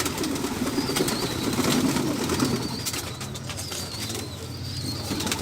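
Golden breeder pigeons cooing steadily with bursts of wing flapping, close by, with light background noise and no talking.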